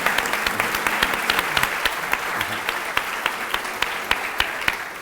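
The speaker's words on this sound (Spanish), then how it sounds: "un aplauso" Studio audience applause on a Spanish-language word quiz TV show, brisk sustained clapping with sharp individual claps standing out, fairly close and loud, a little voice briefly mixed in.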